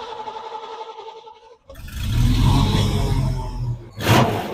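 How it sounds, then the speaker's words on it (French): A 1966 Ford Mustang's engine cranks and catches around the midpoint after a quieter stretch, then settles into a loud, rumbling idle with a sharp rev near the end. "Eh bah écoutez, on va démarrer."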